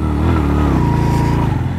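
A motorcycle engine revs hard on a steep off-road mountain climb on the Karachi to Skardu route, a loud, close, continuous growl that rises and dips in pitch with no talk.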